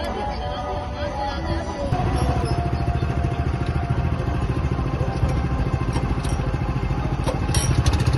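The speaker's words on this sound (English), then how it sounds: "Today, Aaron will try the go-karting" Go-kart engine running on a track, a buzzing mid-pitched motor that steps up louder after a couple of seconds and drones steadily on, with faint background voices.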